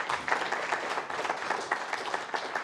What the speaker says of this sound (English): Well, a round of applause first.